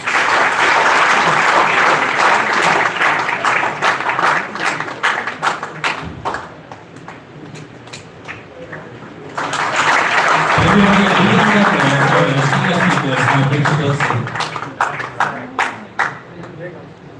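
Audience applause at an engineering career guidance talk as a bouquet is presented to the speaker; a dense burst of clapping fades into quieter scattered claps, then swells again, with talking heard partway through.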